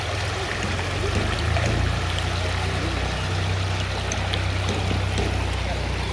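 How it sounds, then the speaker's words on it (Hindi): Fast-flowing floodwater rushes past a damaged village area in a steady, broad roar with a low rumbling undertone, continuous and fairly close. "पानी की स्पीड देखिए दोस्तों"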